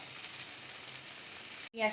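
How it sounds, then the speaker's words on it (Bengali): Chopped onions sizzle in melted butter in a pan, making a faint, steady frying hiss throughout that cuts out briefly near the end before a quick clatter. "একটু ভালো করে আমরা এখন ভাজা ভাজা করে নেবো"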